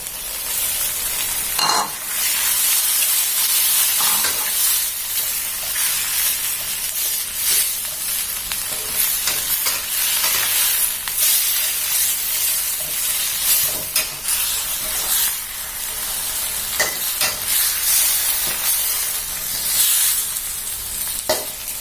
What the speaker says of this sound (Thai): เมื่อเราผัดวุ้นเส้นเริ่มที่จะนุ่มนะคะ ให้เพื่อนๆใส่ตัวกระหล่ำปีเลยค่ะ